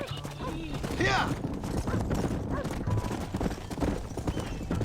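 Several horses clip-clopping at a gallop in the Red Dead Redemption video game, dense rapid hoofbeats throughout with a loud whinny near the start, while a man calls out over the herd.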